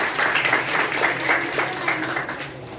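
A school audience claps for a young girl at a women's empowerment program held at an academy in Moradabad. Close, loud, dense applause continues evenly through the short stretch with no talking.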